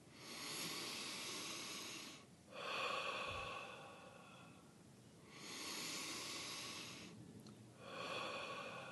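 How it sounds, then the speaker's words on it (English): Slow guided meditation breathing, in through the nose and out through the mouth, with three long soft hissing breaths separated by short pauses, close and quiet, no talking. "on the in-breath, breathing in through your nose and then out through your mouth"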